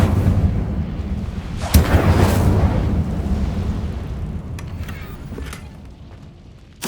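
A booming Incendio fire spell blast in Hogwarts Legacy, a sustained roaring burst that swells after a sharp crack, then slowly fades away with a few faint clicks near the end.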